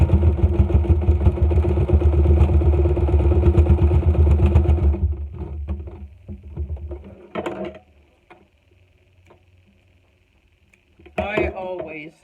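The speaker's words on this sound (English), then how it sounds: "I had to oil my machine earlier today because it sounded like, I don't know, some kind of weird engine or something." Sewing machine back-stitching over the pleats of a fabric face mask, a loud, steady motor whirr and rapid needle clatter for about five seconds, then fading into quieter clicks and handling noises.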